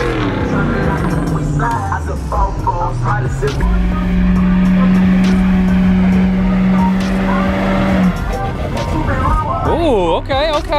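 Lifted trucks do burnouts at an Atlanta truck meet, with a loud, sustained engine roar and held revs, rough tire noise and squeal, and voices in the crowd.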